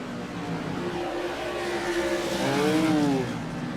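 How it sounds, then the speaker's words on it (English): Modified tour race cars brake into a corner at Thompson International Speedway, their engines droning at a distance with pitches sliding downward as they slow, and the noise swells near the end. "You can see they're starting to get in the brakes a little more. You can hear it."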